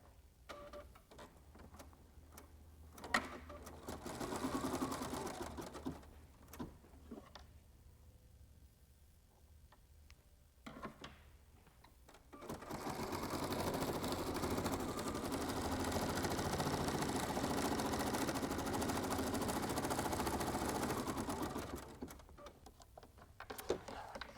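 An embroidery machine sews a placement stitch for a hat shape, a quiet mechanical whirring with soft ticking that starts and stops in short bursts, then settles into a longer steady run.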